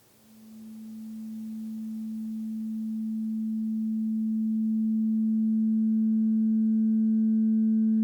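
A crystal singing bowl sustains a pure, ringing tone that gradually swells louder, with soft overtones emerging as it keeps sounding.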